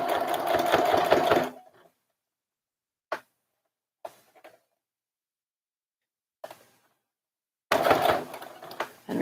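A sewing machine stitches a collar piece on a little girl's dress, running in a loud burst, then a few short taps and stops while reversing, before starting up steadily again near the end.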